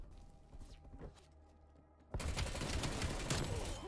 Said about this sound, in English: That took way too many bullets from an AR to kill you